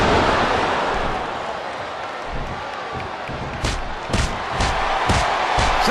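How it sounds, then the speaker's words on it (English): Wrestling arena crowd noise from Smackdown vs RAW 2007 forms a continuous roaring wash of voices, swelling toward the end with a run of sharp rhythmic impacts or stomps over it. "Sounds like this crowd's got something on their minds, King."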